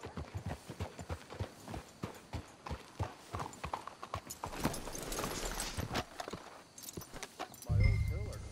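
Horse hooves in Red Dead Redemption 2 clip-clop along in a regular rhythm, with voices talking over them and a short louder thud near the end.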